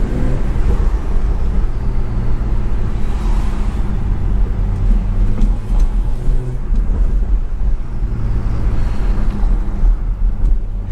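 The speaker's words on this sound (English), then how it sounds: "y'all gotta be hearing the turbo" BMW 340i with the B58 turbocharged engine pulling hard on the road, a loud, steady interior engine drone with whooshing turbo and rushing road noise throughout, no voices.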